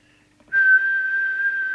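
A steady single-pitch whistle into the microphone of a Cobra 29LXEU 80-channel mobile CB radio as a transmit test, clean and loud, held for just over a second after a brief quiet lead-in.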